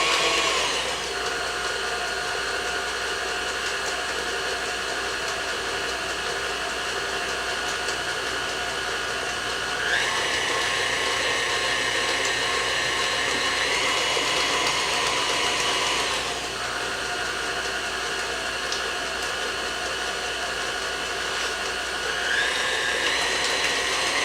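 A stand mixer runs steadily while beating eggs one at a time into pound cake batter with cranberry sauce, a continuous close whir whose pitch shifts slightly between stretches.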